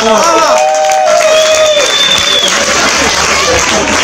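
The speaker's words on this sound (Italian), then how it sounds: "un bel applauso però, uno bello forte" A talent-show crowd in Boltiere breaks into loud clapping and some cheering, close and sustained, with tonal sounds and voices mixed in at the start.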